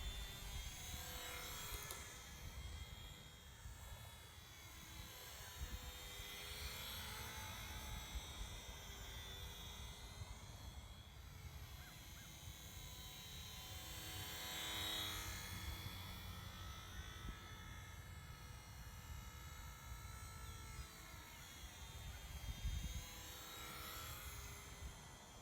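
Electric RC model airplane with 3-channel Park Zone Ultra Micro radio control electronics, its small motor giving a steady buzzing whine that rises and falls in pitch as it passes overhead, continuous for the whole stretch with no talking.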